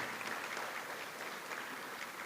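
Steady, continuous applause from an event audience at an annual fashion show award presentation, a dense wash of many hands clapping without pause for the whole stretch.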